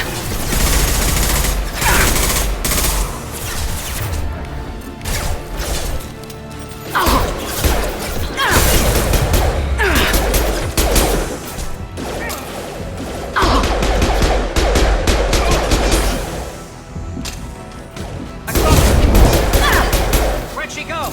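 Video game gunfire from Mass Effect Legendary Edition crackles in rapid bursts mixed with crashes and booms, loud and dense, with voices talking over the combat.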